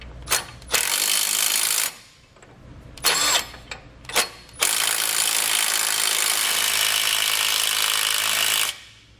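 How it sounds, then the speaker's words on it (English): Ratcheting a 15mm socket to tighten carriage bolt nuts while fitting Firestone Ride-Rite air helper springs, heard as loud, close bursts of rapid ratchet clicking, two short runs and then one long sustained stretch, with no talk. "The carriage bolts, we're going to tighten those nuts with a 15mm socket."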